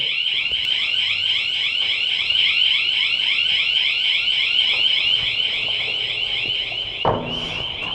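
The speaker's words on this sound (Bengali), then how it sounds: "এখনো কিন্তু অ্যালার্ম বাজতেছে ওই পাশে" A smart security camera's offline alarm, set off by human detection, blares a loud, steady electronic warble that repeats over and over without pause, with a brief knock near the end.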